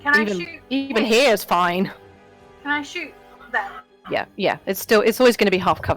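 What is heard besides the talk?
No everyday noise stands out behind the speech.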